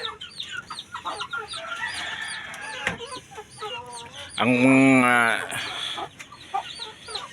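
Backyard chickens cluck in short bursts, including a broody hen with newly hatched chicks, with a louder sustained call rising in the middle and soft peeping around it.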